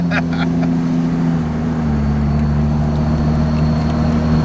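A Ram 2500 pickup with a rebuilt 68RFE transmission drives along. A loud, steady engine drone rises and settles as the gearbox upshifts, and road and cabin noise run throughout.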